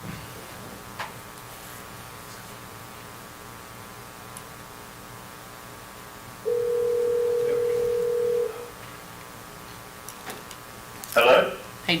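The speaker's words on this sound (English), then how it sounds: "Do I need to dial area code?" A single steady telephone tone lasting about two seconds rings out over faint room hum before a conference call connects, followed by a brief burst of louder noise.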